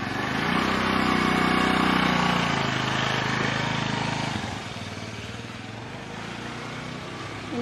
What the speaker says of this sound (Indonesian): Awas nyalain motor dia.